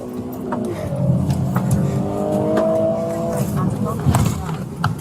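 A car engine revs and accelerates with a rising, roaring drone, close and fairly loud, while people shout over it.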